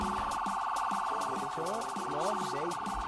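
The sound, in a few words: police car sirens in a video game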